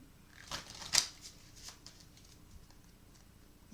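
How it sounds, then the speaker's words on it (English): Tarot cards being shuffled by hand: a few soft, papery riffles and taps, quiet and close, with faint room hiss between them. "I'm going to shuffle till they tell me to stop."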